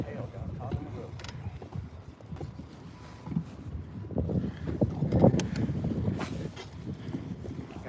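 Wind gusting across a bass-fishing boat out on open water, a steady rumbling buffet against the microphone with occasional creaks and knocks from the boat, and muffled voices talking underneath.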